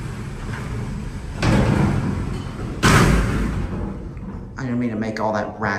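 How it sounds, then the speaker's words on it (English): The doors and gate of a modernized Otis hydraulic freight elevator slam shut, heavy rumbling slides ending in two loud thuds, and a voice follows. "These doors come down so fast. All right, shut the gate."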